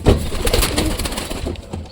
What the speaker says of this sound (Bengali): নতুন কবুতর এক দুইটা নামছে, নামে খাচ্ছে।